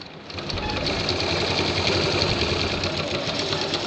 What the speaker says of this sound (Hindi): दार की सिलाई मार ली